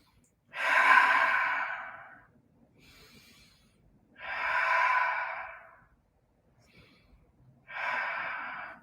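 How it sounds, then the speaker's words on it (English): Slow, deep breathing in a yoga flow class, heard as three long, loud audible breaths with a breathy rush, each followed by a quieter pause, close and alone without talk. "I want to hear your breath 3D."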